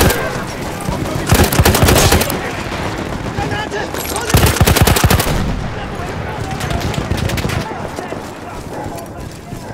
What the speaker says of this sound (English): Quel cannone antiaereo sta abbattendo i nostri bombardieri!